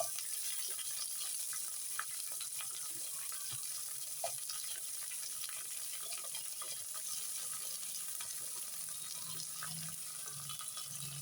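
Black pepper and onion fry in a pan for tomato rice, giving a steady, close hiss and sizzle that holds evenly throughout with a few faint clinks and no talk.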